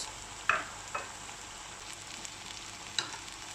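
Frozen okra frying in a pan as a tomato and pepper sauce is poured in, giving a soft, low sizzle with a few sharp clinks of utensils against the pan, close and fairly quiet.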